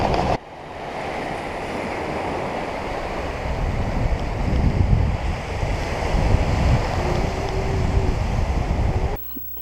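Ocean waves washing onto a beach in Muscat, Oman, a continuous loud roar of surf with heavy wind rumbling against the microphone, steady from start to finish.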